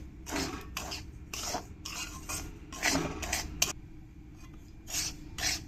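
Semolina frying in hot ghee in a pan as it is stirred, making repeated bursts of dry scraping and rasping across several seconds, close and moderately loud.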